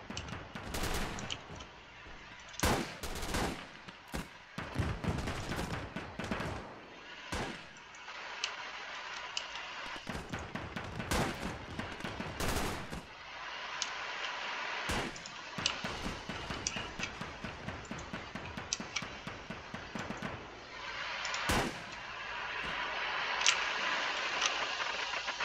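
Rocket artillery fire in the Call to Arms: Gates of Hell war game, a long series of sharp, loud launches and blasts in irregular clusters over a steady battlefield din, with no voices.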